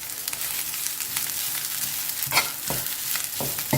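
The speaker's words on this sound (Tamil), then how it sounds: "தேங்காய் எண்ணெயில் வறுத்திங்கன்னா நல்லா வாசனையாக டேஸ்ட்டு ரொம்ப நல்லாயிருக்கும்" Kozhukattai filling sizzles as it fries in coconut oil, with a steady crackle and a few louder scrapes and stirs toward the end.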